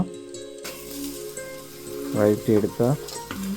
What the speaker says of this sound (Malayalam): അരിഞ്ഞെടുത്ത സവാള നമുക്ക് ആ കടായിൽ ഉണ്ടായിരുന്ന ബാക്കി എണ്ണയിൽ ഇട്ടൊന്ന് മസാലയും ചേർത്ത് കൊടുത്ത് അതിനൊന്ന് വഴറ്റിയെടുത്ത